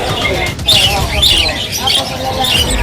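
Harsh, repeated budgie squawks and chirps rise above a steady background of chatter and noise, loud and close.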